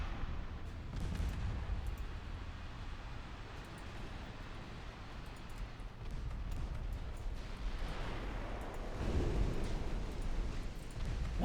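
Naval guns fire in the warship game Ultimate Admiral Dreadnoughts, giving low, rumbling booms that roll over one another into a continuous, muffled barrage of distant gunfire.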